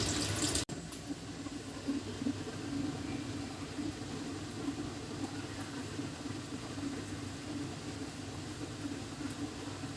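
Water running from a tap while okra is washed, a steady close gush that holds evenly throughout after a brief sharp knock at the start.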